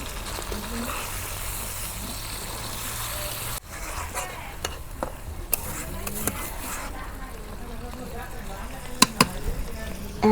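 Water hits a hot karahi of spicy Bengali chicken kosha mid-cooking, giving a steady broad sizzle that runs for several seconds, then settles into softer frying with scattered sharp clicks of stirring.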